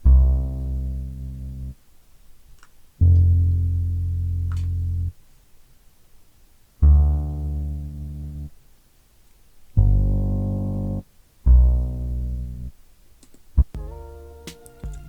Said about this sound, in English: I then added a bass from Morphine, and the name of the plugin is Upright Bass, and it sounds like this.